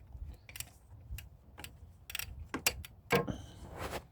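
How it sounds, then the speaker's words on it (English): Wrench on the half-inch drive of the serpentine belt tensioner of a 2012 Cadillac CTS 3.0L, giving a string of soft, close clicks and ratcheting ticks with small metallic knocks spread irregularly over a few seconds. "I have to turn this wrench clockwise in order to loosen this"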